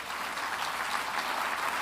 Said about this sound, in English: Let's give him a round of applause and a recognition.